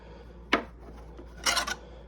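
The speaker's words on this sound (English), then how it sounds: "a specific round rat tail file, I guess you'd call it, to get in and do in between the teeth" A round rat-tail file rasps between saw teeth during sharpening: one short sharp stroke, then a longer scraping pass a moment later, close up in a quiet setting.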